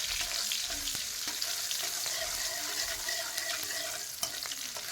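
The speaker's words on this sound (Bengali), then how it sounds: "এবার কড়াইতে পেঁয়াজটা দিয়ে একটু ভাজা করে নেব।" Onion fries in a wok, making a quiet steady sizzle with occasional light clicks and scrapes from stirring, heard alone without speech.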